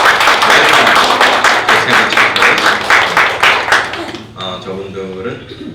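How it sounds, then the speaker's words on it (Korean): A church congregation claps to welcome two visiting guests from Colombia at a worship service, a dense burst of hand claps that gradually thins and fades out, with a voice beginning to speak over the end. "박수로 환영합니다."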